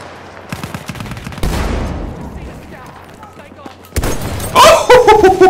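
Gunfire in the video game Battlefield 1, with bursts of shots and booming impacts, then a louder clash of shots at the end, heard under and between an excited voice talking.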